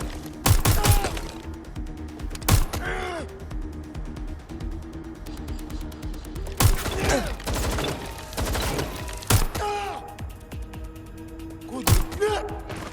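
Video game gunfire in Watch Dogs: Legion, loud sharp bursts of shots in several clusters with quieter stretches and mechanical clanks between, close and punchy.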